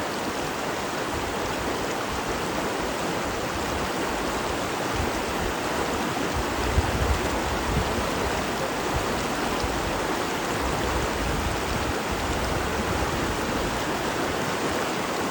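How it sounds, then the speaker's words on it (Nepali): A waist-deep Nepali river rushing past where the trail ends, a loud, steady, broadband roar of flowing water that stays constant throughout with no talking. "खोलाको करेन्ट हेर्न सक्नुहुन्छ।"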